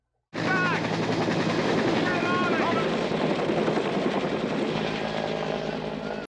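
A helicopter in a 1971 film, a loud, continuous rotor roar that starts abruptly and holds steady throughout, with voices over it.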